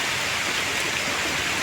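Heavy rain falling in a steady, dense hiss, close and continuous, with no talk.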